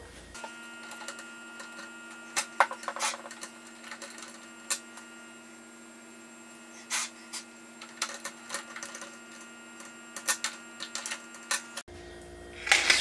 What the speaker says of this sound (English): all I gotta do is just put the screws in